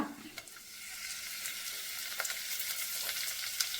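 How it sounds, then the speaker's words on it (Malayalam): Chopped ginger and curry leaves sauté in hot oil in a pan for a Kerala-style potato and sardine curry, giving a steady close sizzle and light crackle with small pops, no voices. "ഇതിലേക്ക് ഓരോ ഒന്നായിട്ട് ഇട്ട് നമുക്ക് വഴറ്റിയെടുക്കാം ആദ്യം ഞാൻ ഇഞ്ചി അരിഞ്ഞതിടാണ് പിന്നെ നമ്മുടെ കറിവേപ്പില"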